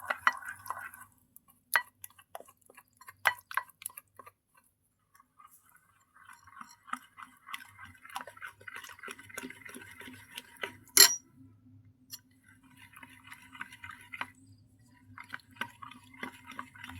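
Rice flour dough being kneaded by hand for poa and poisa pitha, with soft squishing and patting sounds, scattered light clinks of a bowl, and faint rustling, close and quiet with no talking.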